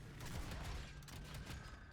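Rapid crackling bursts of fireworks go off in a video game, a dense string of pops and bangs layered over a steady rumbling background at moderate, slightly distant volume.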